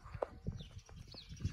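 Horse hooves clop in a slow walk during round-pen groundwork, several soft uneven hoof falls close by over low background noise.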